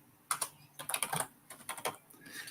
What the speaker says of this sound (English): typing that in